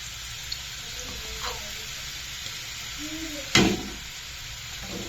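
Food dropped into very hot oil gives a steady frying sizzle and hiss, with a brief louder splash of bubbling partway through and faint voices in the background.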